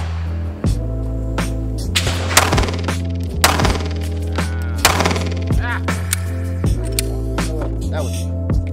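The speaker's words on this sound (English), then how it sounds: "Three more shots, Glock 43X." Glock 43X pistol shots ring out at an outdoor range: several sharp, loud, close reports at irregular intervals over a steady low droning hum.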